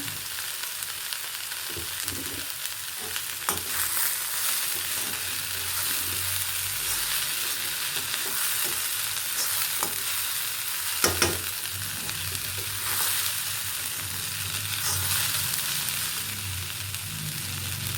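Sprouted horse gram mixture sizzles steadily in a pan while a spoon stirs it, with scraping strokes and a few sharper clinks over continuous frying noise, close and fairly loud, no voices.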